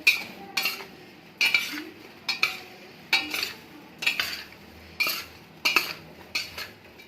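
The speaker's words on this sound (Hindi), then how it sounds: "नमक ऐड करने के बाद हम इसको अच्छे से मिक्स करेंगे।" Vegetables for homemade achar are tossed with salt in a metal bowl or pan, giving about ten sharp, evenly spaced scraping clinks of a spoon against metal, close and fairly loud, with no talk.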